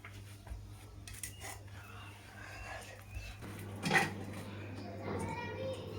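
A child clatters a dinner plate while carrying it to the sink, scraping leftover rice into a bin and rinsing it, with faint clinks and a brief splash of running water under an adult voice in a quiet home.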